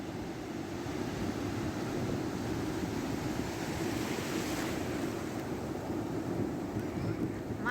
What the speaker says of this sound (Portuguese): tá vindo umas ondas gigantes.